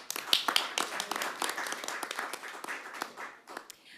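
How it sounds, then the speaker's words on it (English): Scattered clapping from an audience at a school debate semifinal, a brief, fairly sparse round of applause with individual claps standing out, moderate in level and tapering off toward the end. "Let's give these students a round of applause."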